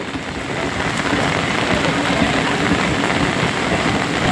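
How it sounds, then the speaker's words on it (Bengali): Heavy rain pours steadily during a storm in Kolkata in a dense, unbroken hiss, loud and close, with no voices or pauses. "প্রচণ্ড বৃষ্টি শুরু হয়ে গেছে"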